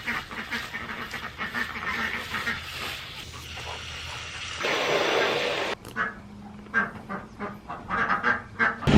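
Ducks quacking outdoors on a homestead around feeding time, repeated calls throughout at moderate distance with some background noise and brief faint voices.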